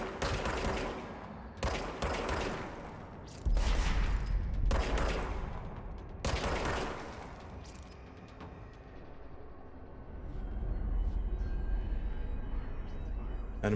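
Bursts of enemy gunfire in the video game Control, several loud volleys of rapid shots separated by brief pauses, trailing into a lower rumbling ambience.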